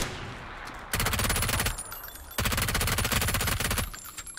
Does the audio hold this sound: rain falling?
no